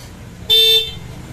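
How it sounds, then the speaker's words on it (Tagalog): A single loud, close Bosch Europa car horn blast on a Suzuki Jimny lasts about a third of a second, with quiet surroundings before and after. "Itetest natin yung busina."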